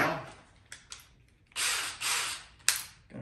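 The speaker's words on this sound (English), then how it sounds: "gonna drill all the way through every one of these" A power drill fitted with a 1/16 bit bores through a wooden clamp rack, giving short whirring bursts and then two longer sustained drilling runs, loud and close with no talk.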